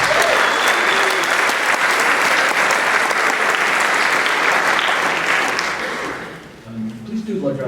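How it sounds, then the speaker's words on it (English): Audience at a high school band concert breaks into loud, sustained applause, dense clapping filling the hall for several seconds before tapering off, with voices emerging as it fades. "So give them a big round of applause."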